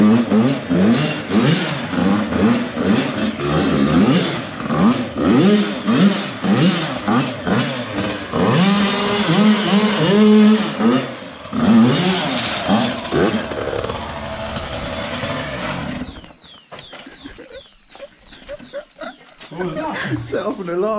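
A Yamaha YZ85 dirt bike with a freshly fixed gear selector revs loudly and close, its engine rising and falling in repeated sharp throttle bursts before cutting to quieter rattling idle; people talk over it.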